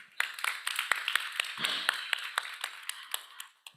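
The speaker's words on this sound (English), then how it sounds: "so let's clap for them once again" Scattered, fairly quiet clapping from a modest audience for the finalists at the 2025 WFF Startup Innovation Awards. Individual claps stand out crisply rather than blending into a roar, and they taper off at the close.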